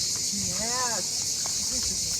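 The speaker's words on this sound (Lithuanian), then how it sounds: "Žiogai? Nes jų čia žiauriai stiprus garsas." Grasshoppers or crickets chirping loudly outdoors in a Turkish village, a dense, continuous high-pitched drone with brief rising tones and faint movement beneath.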